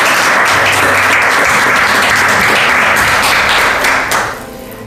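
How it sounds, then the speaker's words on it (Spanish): Wedding guests at a civil marriage ceremony break into loud, dense applause right after the bride accepts, sustained for several seconds before tapering off at the end. "Un aplauso."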